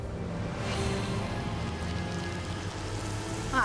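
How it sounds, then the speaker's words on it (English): Rain spell cast on a video game battlefield: a soft, even hiss of rainfall pattering on surfaces, steady and fairly faint, with a brief louder swell at the end. "cast some rain upon the battlefield"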